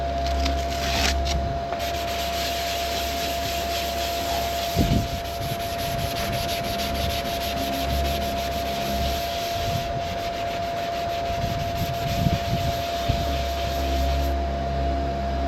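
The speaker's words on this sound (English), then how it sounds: "but with 320 grit now, and then we start sanding all the scratches around" Hand sanding of plastic body filler on a car with 320 grit sandpaper, a continuous close scratchy rubbing with strokes surging and easing, and a faint steady hum running underneath.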